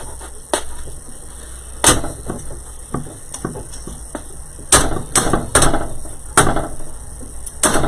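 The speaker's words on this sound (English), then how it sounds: "We're going to get the hammer out." Sharp metallic hammer strikes ring out one at a time at irregular intervals, close and loud, with quieter knocks and clatter between them.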